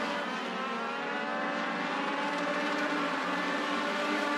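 Race cars lap Auburndale Speedway with a continuous, loud, steady engine roar holding a sustained pitch throughout, with no talking.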